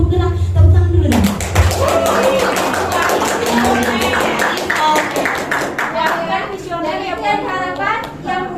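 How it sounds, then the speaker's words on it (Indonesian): Teachers at a school staff meeting break into loud clapping that starts after a brief stretch of speech and continues steadily to the end, with voices talking over the applause. "Tepuk tangan dulu dong"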